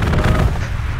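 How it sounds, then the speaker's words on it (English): A strafing run in the World War II shooter Hell Let Loose: a short, heavy burst of rapid gunfire with low booming impacts, loud and close, fading slightly at the end. "That was a strafing run."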